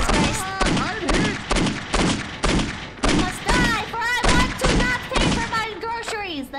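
Rapid, loud shotgun blasts fired over and over in a video game, heavy thuds in a dense rhythm mixed with a harmonic tonal layer, no speech audible.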